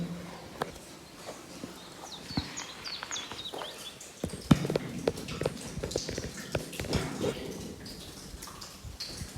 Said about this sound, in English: Can hear water dripping.